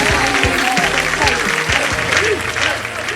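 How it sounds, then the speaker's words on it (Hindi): Studio audience on the Wheel of Fortune game show breaking into loud, sustained applause, dense and close for the whole stretch, with a host's voice briefly heard over the clapping. "चलिए आइए, जोरदार तालियां इनके"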